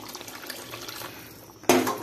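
Water from a tap is added to a pot of boiled potatoes: a soft background hiss, then a sudden loud gush of running water near the end. There is no speech.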